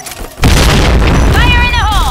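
A heavy, close blast from a grenade in Point Blank booms out and rumbles on, with a voice rising over the tail of the explosion.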